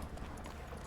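Hooves of Roach, the horse in The Witcher 3, clip-clop in a brief, dense burst close by.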